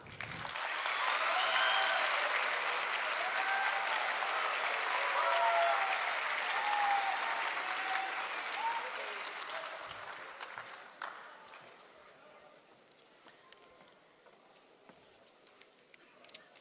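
A studio audience applauds to welcome a guest, with loud, sustained clapping and some whistles or cheers that fade after about ten seconds into sparse, scattered claps.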